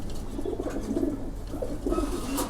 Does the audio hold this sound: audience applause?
no